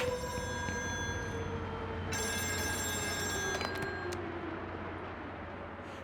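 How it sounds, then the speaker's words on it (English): An old telephone bell rings in the game Still Wakes the Deep, set on a drilling rig, repeated metallic trills that break off and start again over a low, steady industrial hum. "Another phone ringing."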